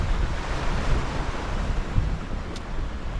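Wind and surf on a sea shore at a fishing mark on a dark morning, a steady broadband roar with low rumbling gusts buffeting the microphone throughout, no voices.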